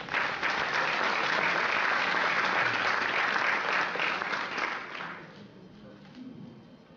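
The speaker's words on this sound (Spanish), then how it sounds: "Fuertes aplausos al doctor." Hall audience at a university scientific merit award ceremony gives the doctor a strong round of applause, a full steady clatter that holds for several seconds and then fades away.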